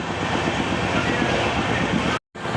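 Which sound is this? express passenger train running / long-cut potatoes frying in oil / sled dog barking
express passenger train running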